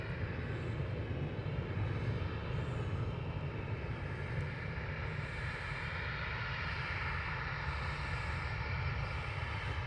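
A KLM airliner arriving at Edinburgh Airport, its engine drone a faint, steady, distant whine and rumble that holds evenly for the full stretch with no voices.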